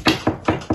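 Four hollow knocks on a loose floor tile with an empty space beneath, evenly spaced and close, each a dull, resonant tap.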